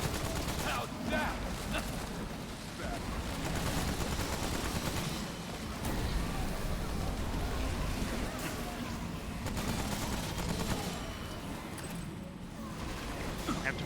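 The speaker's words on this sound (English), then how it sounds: "I'm gonna switch to the submachine gun because we are running low on ammo for the assault rifle." Submachine gun bursts in the Remnant: From the Ashes video game, with dense, continuous rattling gunfire and loud combat noise throughout, with no break.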